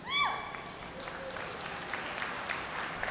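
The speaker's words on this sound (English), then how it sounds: "Let's give him a round of applause" At a Texas opening ceremony for the American Brahman Breeders Association, an audience gives the governor a round of applause, a soft, even patter of clapping that follows a brief high tone.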